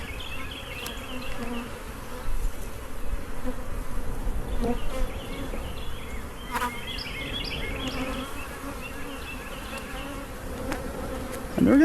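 Honey bees buzzing around a hive being split in spring, a close, continuous drone of many bees, with individual bees flying past the hive frames and some faint handling noises.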